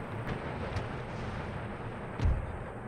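Cannon artillery fires during an Empire: Total War battle against the Persians, as three muffled booms land at uneven intervals, the last deepest and heaviest, over a constant wash of battlefield ambience.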